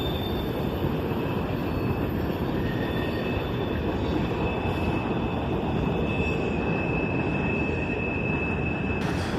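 A freight train with a Columbus and Greenville GP15-1 locomotive passes close by, a loud, steady rolling rumble of wheels on rail with high metallic squealing tones riding above for the whole stretch.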